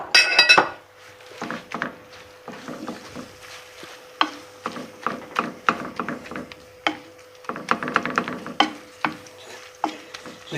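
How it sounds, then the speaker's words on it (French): Grated potatoes pressed into a pan of melted butter for a rösti, with scraping and clinking of a utensil against the pan in irregular bursts, a faint steady hum underneath, close by and without speech. "J'écrase bien pour former une galette."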